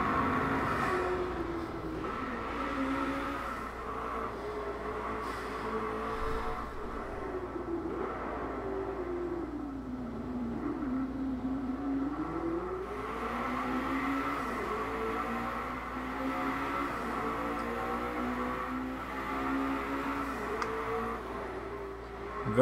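McLaren 650S and rival cars racing on a track in the Driveclub video game, engine tones rising and falling with gear changes at moderate volume, a continuous drone with no talk.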